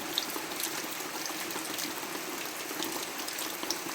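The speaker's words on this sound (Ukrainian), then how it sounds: "А ще сьогодні воно такий дощик гарний йде." Steady rain falls in a Ukrainian village, a dense, even hiss with scattered patters and drips, moderately close and without voices.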